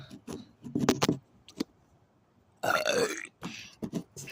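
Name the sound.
person burping loudly in a burping competition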